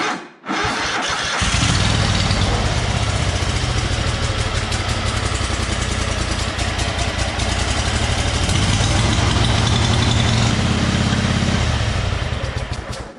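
A John Deere riding mower cranks briefly and catches, then its engine runs steadily and loudly close by, a throaty mid-pitched idle holding for over ten seconds with no one talking.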